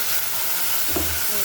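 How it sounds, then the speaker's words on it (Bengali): Fried shing fish pieces go into a hot pan, giving a steady, loud broadband sizzle with a brief clattering bump midway. "এখন দিয়ে দিচ্ছি পিসগুলো,"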